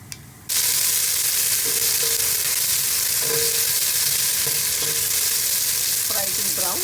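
Onions fry in a pan with steady loud sizzling after a sudden start, joined by scattered clinks and scrapes of stirring, for a chicken yakhni pulao.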